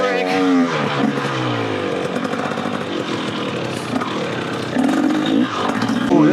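Raw two-stroke dirt bike engine buzzing loud and close while riding a rocky Arizona trail, with steady revving and throttle changes throughout.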